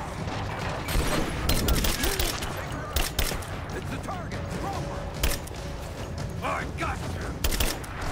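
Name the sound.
assault rifle gunfire in the video game Rise of the Tomb Raider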